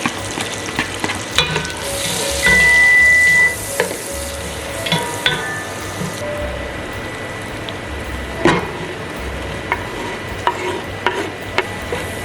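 Garlic and onion frying in a pan for carbonara, a steady close sizzle with occasional stirring scrapes and clinks, no talking.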